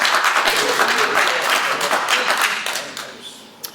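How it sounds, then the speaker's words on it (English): A round of applause at a town selectmen's meeting: steady, dense clapping from a roomful of residents for a few seconds, then tapering off into a couple of last isolated claps. "Round of applause."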